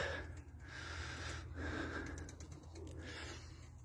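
Kula pigeons, newly released play birds, give soft breathy coos and snorting puffs close by, with quiet ambient hiss in between and no talking.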